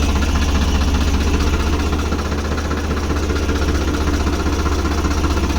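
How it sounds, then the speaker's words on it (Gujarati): A farm tractor engine idles steadily after starting up, a close, loud low rumble with a regular chugging pulse and mechanical vibration that continues without a break. "આપણે ફાઇનલી ટ્રેક્ટર ચાલુ કરી દીધું છે."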